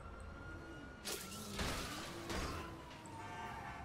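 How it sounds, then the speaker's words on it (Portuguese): A police siren in GTA 5 wails, sweeping up and down alongside whooshing bursts and crashes, the synthetic tone holding throughout. "Tá chato pra caramba esse barulho de sirene aí, velho."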